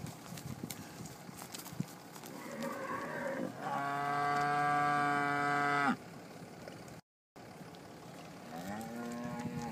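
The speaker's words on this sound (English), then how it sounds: "Nice cows, though. Nice good ranch of cows." Young Braford cows on a South Texas ranch: one long, tonal moo of about two seconds rises over quiet outdoor background noise, followed by a brief gap and then a second moo starting near the end.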